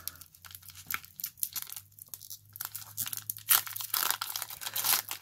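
Foil wrappers of Lost Thunder Pokemon card booster packs are torn open and crinkled up close, with quiet irregular ripping and crackling.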